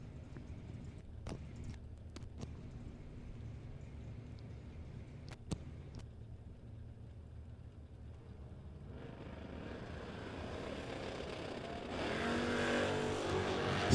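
Drag race cars, a Chevrolet S10 and a Camaro, launching at the strip: a steady engine drone that swells into a louder, broadband roar toward the end, with sharp clicks scattered early on.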